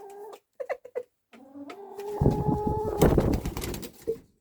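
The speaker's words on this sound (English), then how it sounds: "Oh, you silly bird." A bird in a garden makes a few short clucking or cooing calls, then a longer louder run of squawky, fluttering noises up close, ending with one more brief call; no talking.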